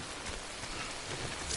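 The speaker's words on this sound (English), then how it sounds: "Get out of this rain though." Steady, dense rain falls in the video game Death Stranding, a loud continuous hiss of drops hitting surfaces with no voices over it.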